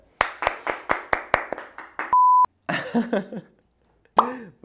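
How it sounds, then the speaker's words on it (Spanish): Someone calls for applause for a guest on a talk show, and about eight sharp, evenly spaced hand claps ring out up close. A short steady beep tone follows, then a voice speaks. "un aplauso para Flor de la"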